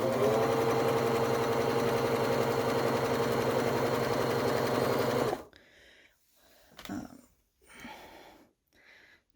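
A sewing machine stitches elastic onto a galaxy-print skirt in a steady, continuous mechanical whir for about five seconds, then stops, leaving faint handling and fabric rustles.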